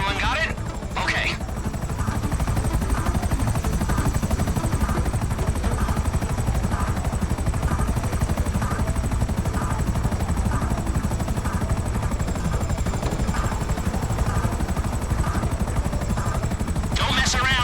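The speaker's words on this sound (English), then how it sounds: "It still is a chopper, so you're not exactly invisible." Helicopter flying in the video game GTA Online: a loud, continuous rotor and engine roar holds steady throughout, with a voice talking over it.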